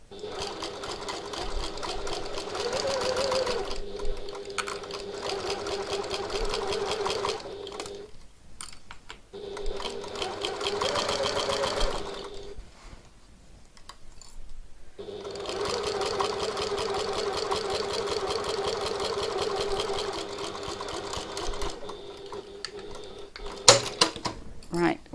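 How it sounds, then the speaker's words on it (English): A domestic sewing machine stitches the turning gap of a tote bag closed along the very edge, running in long rapid bursts with brief pauses between them, with a person talking over parts of it. "you can do it with a machine stitch just on the very edge"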